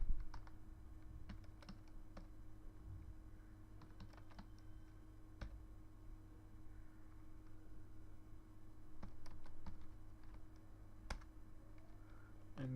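Fingers tapping a computer keyboard while entering commands into MATLAB, with irregular bursts of quiet clicks spread across a low steady room hum, no voice.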